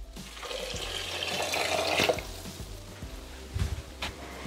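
Hot water poured into a Thermomix bowl (Bimby TM6) while making pasta with peas: a steady running, splashing pour with a faint gurgle and a couple of light knocks near the end, fairly close, no talk.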